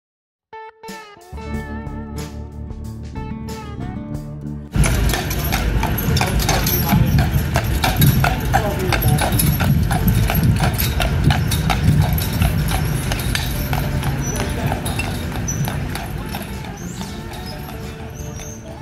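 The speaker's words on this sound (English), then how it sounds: "A carriage ride is a great way to see Savannah." Horse-drawn carriage hooves clip-clop steadily on a street in Savannah, Georgia, a close, rhythmic patter that continues throughout, with a voice speaking over it after a brief quieter opening.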